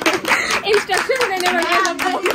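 Family members clap along to a birthday song at a home celebration, a quick run of close, loud hand claps under people talking and singing.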